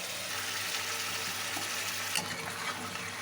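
Cut, washed potatoes go into a fried spice paste in a hot pan, setting off a loud, dense, steady hiss of sizzling with one brief sharper crackle. No one speaks.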